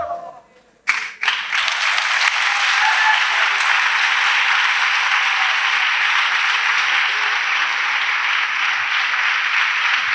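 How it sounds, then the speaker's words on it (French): A church congregation claps together as an offering to Jesus Christ, a dense, sustained wash of many hands that starts abruptly after a brief pause and holds steady and loud to the end. "Clap offering to Jesus Christ."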